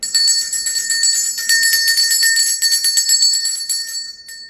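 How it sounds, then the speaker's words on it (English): A bright metal bell rings continuously with a shimmering, sustained tone and rapid repeated strikes, loud and close, slowly fading at the end. "So I'm going to use my bell here."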